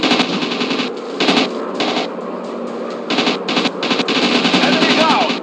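Rapid machine gun bursts from a warplane in a WW2 dogfight mobile game, loud stuttering volleys starting and stopping with brief gaps, over engine drone and game sounds.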